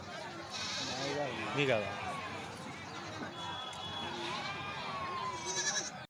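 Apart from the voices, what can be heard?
goats bleating at a goat market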